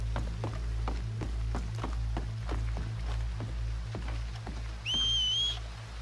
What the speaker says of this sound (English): Whistle or something.